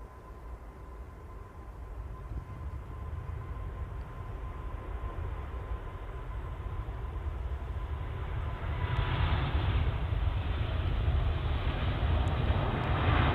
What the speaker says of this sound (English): that wasn't the go around, that was the A380 departure